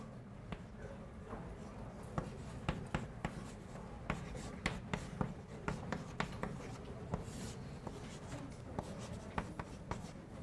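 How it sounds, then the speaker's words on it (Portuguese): Chalk or marker strokes on a board during a calculus lecture, a steady series of quick scratchy taps and strokes close by, with faint room noise and occasional light voice in the background. "Vamos escrever do lado de cá, que talvez fique um pouquinho mais limpo."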